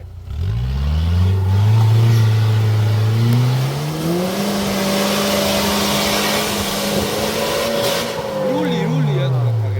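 A car engine revs hard as the driver presses the gas, a loud close roar climbing in pitch and holding high, then dipping and rising again, with voices faintly underneath.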